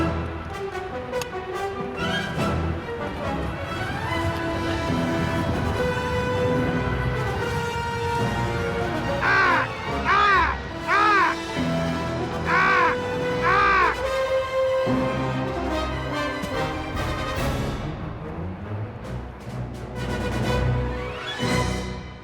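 Crows at Heathrow airport give a series of harsh, repeated caws, several loud calls clustered in the middle, set against a steady background rumble of airport ambience.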